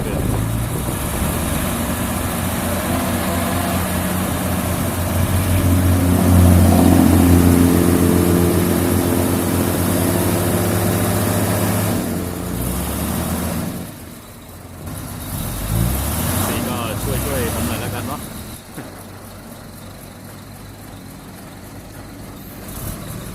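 A dump truck engine idles and rumbles close by, swelling briefly as if revving, then dropping and shifting in tone as it is put into reverse gear, with a steady mechanical drone throughout.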